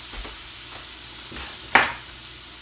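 Broken matzo is stirred in a hot pan, with a steady sizzle of frying and a few soft scraping strokes, then one sharper clack from the spoon against the pan.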